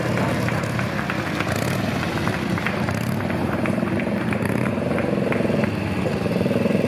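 A Moto Guzzi motorcycle at a concours d'elegance show runs steadily at idle, a continuous throbbing engine note with a regular beat, close and loud throughout without audible talk.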